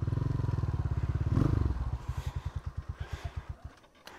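A motorcycle engine runs close by, its rapid exhaust pulses slowing into a loping idle of distinct, evenly spaced thumps before fading out.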